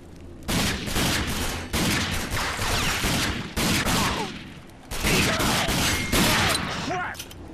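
Repeated bursts of heavy gunfire in the shooter game Rage, loud and close, coming in several long volleys separated by brief lulls, with a voice talking over parts of it.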